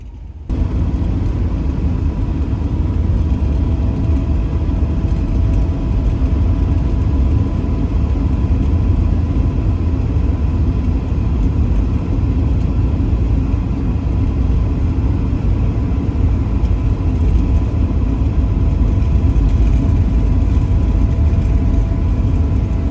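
A 1966 Chrysler Town & Country classic car cruises along Route 66, its engine giving a steady, loud rumble throughout with a continuous low drone and no voices.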